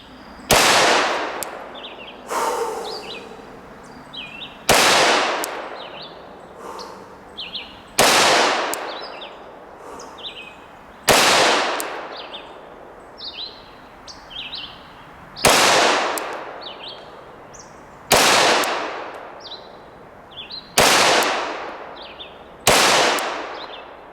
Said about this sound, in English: So we're going to reload, shoot some more, give you guys a chance to check it out.